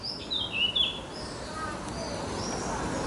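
Faint bird chirps and tweets come in short bursts early on, set against a steady outdoor hiss with no one speaking.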